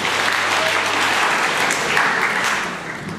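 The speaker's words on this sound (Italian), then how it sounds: "Un applauso." Audience applause at a school theatre workshop presentation greets a performer about to give a Shylock monologue from The Merchant of Venice. Steady, full clapping from a crowd runs throughout and eases off slightly at the close.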